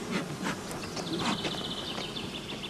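Honey bees buzz steadily around newly formed colonies headed by young queens, a dense close hum with individual insects droning past in passes, no voices.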